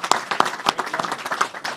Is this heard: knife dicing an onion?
no